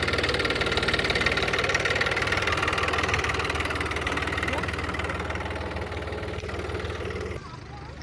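A tractor engine idles and runs steadily on a farm while manure is being spread, a loud, close, low rumbling drone with knocking vibration, continuous throughout before dropping off slightly near the end.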